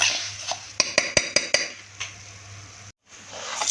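Dough frying in hot oil in a home kitchen, cooked for stuffed cabbage, gives a steady close sizzle. Sharp metallic clinks of a utensil against the pan punctuate it, then it cuts out briefly and comes back.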